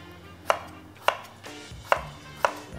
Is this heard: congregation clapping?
no